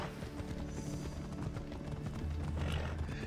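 A big flaming horse gallops in Assassin's Creed Odyssey, its steady clip-clop hoofbeats running throughout over dense game music and effects, with no talk.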